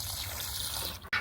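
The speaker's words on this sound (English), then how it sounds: "it's starting to let out more water" Water drains out of a backyard duck pool in a steady, close rushing trickle, a hissing flow that briefly dips and gurgles before surging again.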